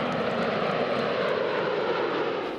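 Fighter jets passing over an air force base during a barracks opening ceremony, a loud continuous aircraft engine roar that stays steady and fills the clip, with no talking.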